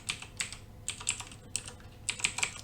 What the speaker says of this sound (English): we're going to type in config space T, enter, then type in enable space secret space